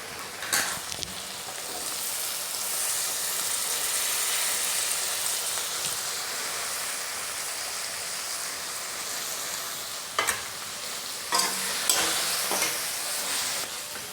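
Peas tipped into softened tomatoes sizzle steadily in a frying pan for brinjal curry, with a few louder clatters of stirring near the end and no talking.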